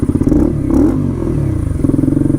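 A Honda Grom motorcycle fitted with a swapped CBR engine idles close by, a rapid low pulsing thrum that sits slightly high and wavers up and down, with a brief clatter early on.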